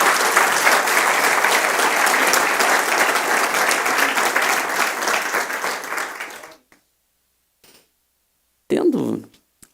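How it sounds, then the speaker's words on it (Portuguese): A church congregation applauding loudly and steadily for about six seconds, dense clapping close by, then stopping abruptly into silence before a brief voice is heard. "dê um aplauso forte para o Senhor Jesus"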